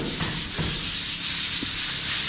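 Sandpaper rubbed across a skim-coated plaster wall or ceiling, a loud, continuous gritty scraping with steady back-and-forth strokes and no pauses.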